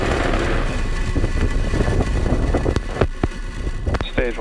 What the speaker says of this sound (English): Ignition, engines full power, and liftoff of Space Development Agency 0B.